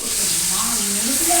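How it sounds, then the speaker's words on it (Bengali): Large prawns fry lightly in a little oil, giving a loud, steady sizzle for the whole moment while a voice hums faintly underneath. "মাছগুলো হালকা অল্প তেল দিয়ে হালকা ভাজা ভেজে নেবে"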